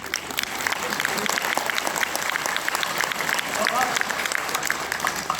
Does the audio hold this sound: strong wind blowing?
no